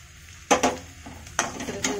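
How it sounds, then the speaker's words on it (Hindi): Spices being stirred into lightly fried onions in a pan while cooking stuffed capsicum: two quick bursts of scraping and sizzling as the spoon moves, over a soft, steady background hiss. "अब इनमें हम अपने मसाले ऐड कर देंगे जो हमने ये निकाले थे अलग से सारे।"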